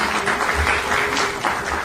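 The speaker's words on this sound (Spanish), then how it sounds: "queremos darle un fuerte aplauso a nuestros amigos de la escuela dominical" Audience at a church service applauding the Sunday school group, a dense, steady wash of clapping close by with no talking over it.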